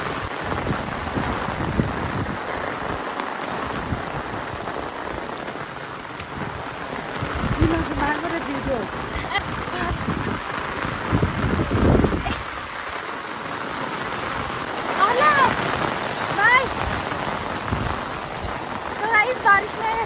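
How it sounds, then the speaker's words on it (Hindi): A heavy downpour falls steadily in the mountains of Uttarakhand, its hiss rising and falling over about twenty seconds while people talk nearby, with only faint hints of distant rumbling. "भयंकर वाली बारिश हो रही है।"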